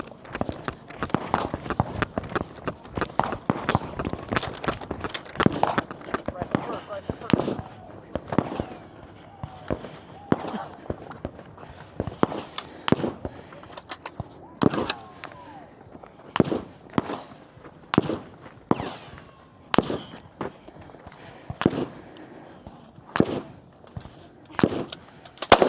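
Rapid gunshots ring out from a shooting range firing line during a women's elite practical shooting stage, sharp cracks coming in quick strings and irregular bursts, loud and close, with a voice talking in the background.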